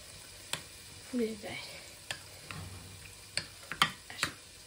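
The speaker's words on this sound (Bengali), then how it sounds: "এখানে আমি পেঁয়াজ রসুন দিয়ে দিছি, মিক্স করে দিব" Onion and garlic are stirred in a pan with a soft frying sizzle under a run of sharp spoon-on-pan clicks and knocks, some of them quick, and a brief murmur of voice.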